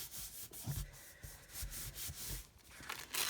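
Glued paper rubbed down onto a card at a craft desk, a soft, close, faint scuffing and rubbing in short repeated strokes, with no talk.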